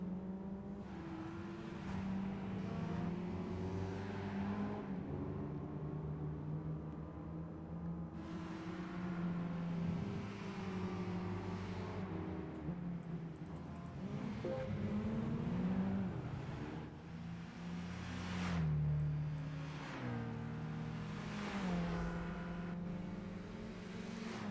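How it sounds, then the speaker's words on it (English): A Nissan Skyline drifting in Gran Turismo 5, its engine droning and revving steadily with rising and falling pitch, tire noise underneath, sustained and loud throughout. "Skyline's going drifting again."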